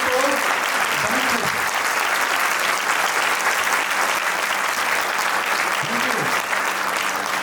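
A seminar audience in Haryana gives loud, sustained applause, a thick, even wash of clapping that runs steadily throughout with only a brief voice near the start and end.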